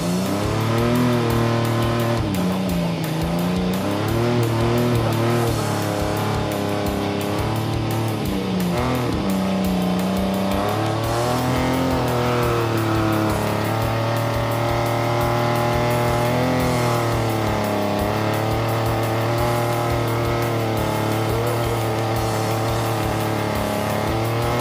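An old Ford Galaxie rally car's engine revs hard on throttle, rising and falling through long loud pulls with tires squealing on a north woods track, sustained and close with no talk.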